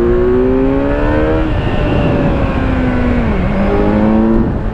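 Kawasaki Z900 motorcycle accelerating hard, its engine note climbing through the gears in loud, continuous rising sweeps with brief drops at each shift, heard up close without any talking.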